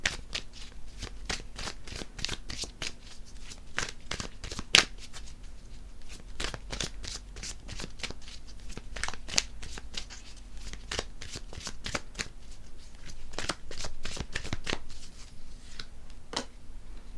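A deck of tarot cards is shuffled by hand, a close, steady run of rapid riffling flicks and slaps that continues without pause and with no speech.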